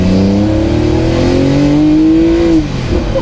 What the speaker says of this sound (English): Let me just drop it down a couple of cogs.